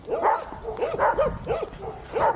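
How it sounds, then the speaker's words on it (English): A dog barks on a street in the Philippines, four evenly spaced woofs close by and moderately loud, with no talk over them. "everywhere I go there's dogs there"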